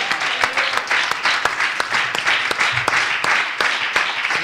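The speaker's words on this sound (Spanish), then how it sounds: "un aplauso para nuestro Dios esta mañana." A church congregation at a Spanish-language service breaks into loud, close applause, with distinct sharp individual claps standing out in an uneven rhythm that continues throughout.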